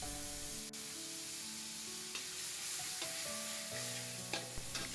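About one and a half tablespoons of butter sizzles and crackles steadily in a hot wok, a close, constant frying hiss with light stirring clinks and no talk.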